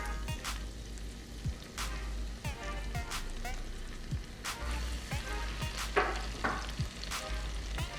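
Garlic and finely chopped onions sizzling and frying in a pan, a steady crackle close by with periodic scraping stirs.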